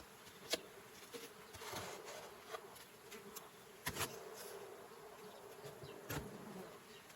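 A small handful of honey bees buzzes faintly and steadily after two colonies are merged, with a few louder passes close by.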